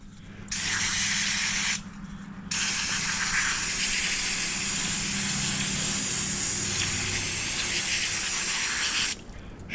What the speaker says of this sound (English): Sprayed it off.